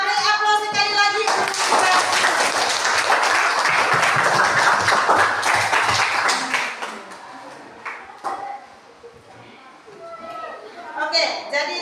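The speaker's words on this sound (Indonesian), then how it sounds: "Kita beri aplaus sekali lagi." Classroom applause for student presentations at a school lesson, a dense burst of clapping filling the first seven seconds, then thinning out as a teacher's voice takes over and continues talking.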